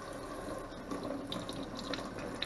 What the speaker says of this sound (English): all you gotta do is rinse your fillets off